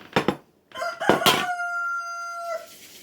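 A rooster crows nearby, a loud drawn-out call with a few sharp clucking bursts before it, ending abruptly.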